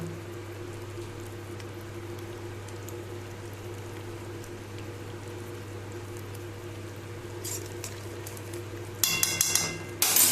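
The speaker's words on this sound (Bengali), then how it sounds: "ঝোলটা আমার ফুটে উঠেছে" Soybean malai curry gravy bubbles steadily in a pot with a low, continuous simmer, ending in a brief clatter of a utensil against the pan.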